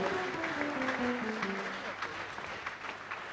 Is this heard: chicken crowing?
no